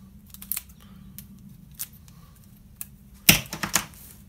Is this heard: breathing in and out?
no